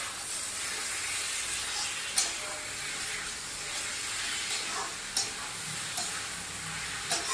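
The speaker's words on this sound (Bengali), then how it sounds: "এবার আমি এগুলো সবকটা টমেটো এতে দিয়ে দিলাম। এবার আমি এটাকে একটু ভালো করে মিশিয়ে নেব।" Tomatoes stirred into frying onions for a Bengali chicken curry with snake gourd give a loud, continuous hiss and sizzle, nearby, broken by a few sharp utensil scrapes against the pan, with no voices.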